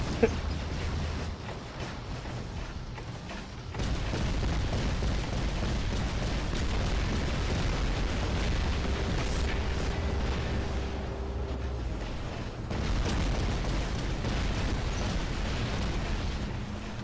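Rockets from an enemy robot in War Robots pound against a shield in a sustained barrage of blasts and rumble, with the roar dropping briefly partway through before resuming.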